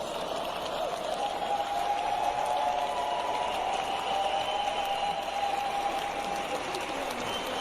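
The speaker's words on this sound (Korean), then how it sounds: "일어서서 그렇다고 저렇게 격려하고 박수를 치고 응원을 하는 거예요" A large crowd at a political rally applauds and cheers, a continuous wash of clapping with a sustained mass of voices, distant and steady throughout.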